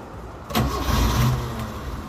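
A 1994 Mazda Vantrend van's rear-wheel-drive engine cranks briefly and catches at about half a second, then settles into a smooth, steady idle, close and fairly loud with no talking.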